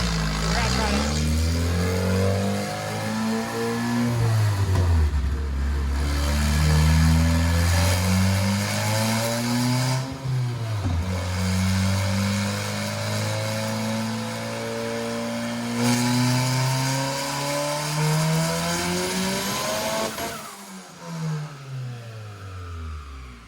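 Honda K-series engine swapped into a Porsche 911, revving hard through repeated pulls on a dyno, loud and close, its pitch sweeping up and dropping back several times, with an abrupt cut near the end.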